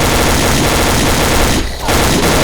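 Rapid, continuous gunfire from dual-wielded guns in the video game Xshot, a loud, dense rattling fusillade that briefly pauses and then resumes.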